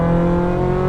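A sports car on a race track runs at full power, giving a loud, close, sustained engine roar with a steady harmonic drone and a slight rise in pitch.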